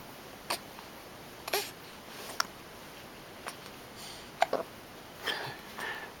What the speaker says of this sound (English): See, I got the hiccups.